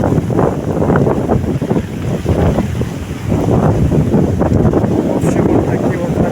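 Strong wind buffets the microphone over a stormy sea at Neptun, with rough surf and waves churning loudly and continuously; someone talks over the roar now and then.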